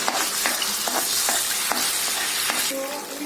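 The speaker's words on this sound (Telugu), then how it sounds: "ఇప్పుడు ఆయిల్లో మనం వేపుదాం అల్లం వెల్లుల్లి పేస్ట్ని" Ginger garlic paste fries in hot oil for chicken curry, a steady loud sizzle up close with a spoon stirring and scraping the pan in repeated strokes, no voices.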